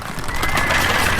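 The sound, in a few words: horses neighing in the video game 0 A.D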